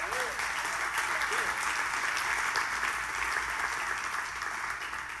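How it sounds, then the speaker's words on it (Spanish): A church congregation claps steadily for God at a Spanish-language service, dense and continuous applause filling the room for several seconds with a voice faintly audible beneath it. "O dale un aplauso a Dios."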